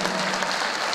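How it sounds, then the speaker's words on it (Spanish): A church congregation applauds at a Spanish-language service, a dense, even wash of clapping from many hands with no break over the short moment. "¿Cuánto le damos un aplauso al Señor por su iglesia?"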